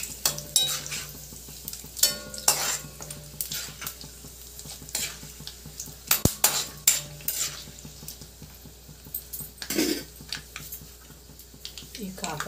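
Dried red chillies frying in oil in a pan for a bitter gourd fry: a soft, steady sizzle under repeated spatula scrapes and sharp metallic clinks, close by.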